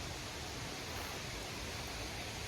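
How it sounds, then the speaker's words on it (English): A river in a dark, rocky forest along the Great Glen Way gives a steady, broad rushing hiss that holds evenly throughout without any talk. "I hear the river up ahead."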